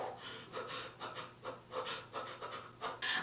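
Heavy, rapid panting breaths in a steady rhythm, close but fairly quiet, with no other sound.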